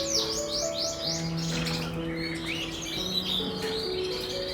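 Gloster canaries, including a fine-feathered crested female, chirp and trill in a crowded aviary, with rapid repeated rising tweets, whistled tones and overlapping calls from several birds close by.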